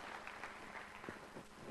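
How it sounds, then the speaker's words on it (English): A conference audience applauds faintly to welcome a professor to the stage. The applause is a soft, distant patter of many hands that stays steady and has no talk over it. "You really shouldn't clap at the beginning."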